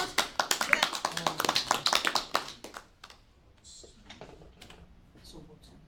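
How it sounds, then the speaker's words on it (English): A small class audience of students applauds with quick, irregular claps, loud and close for a few seconds before fading into scattered light taps and quiet murmuring. "Okay, then let's applaud."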